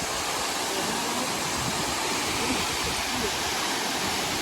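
Tortum waterfall in Turkey pours with a loud, constant roar of rushing water that fills the whole scene, close and unbroken, with no speech heard.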